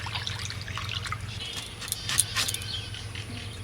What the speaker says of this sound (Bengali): জলের মধ্যে একটু হলুদ গুলে নিলাম